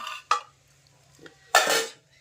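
A lid clatters onto a cooking pot over a boiled rice dish, with two short metallic knocks and a brief scraping rattle amid quiet surroundings.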